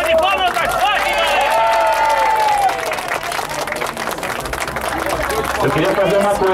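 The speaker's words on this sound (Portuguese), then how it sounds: "Uma salva de palmas das Fátimas!" Crowd applause and cheering at a lively gathering in São Paulo's east zone, loud sustained clapping with shouts and whoops over it, close and continuous throughout.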